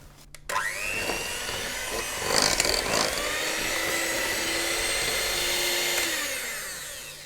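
An electric mixer beats chocolate biscuit batter containing melted chocolate, a loud steady motor whine with shifting pitch, a brief rattle of beaters against the bowl partway through, running alone without talk.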